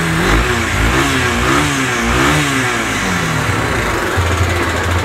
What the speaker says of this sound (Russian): И гремит он снизу. То есть это щелкает именно коленвал.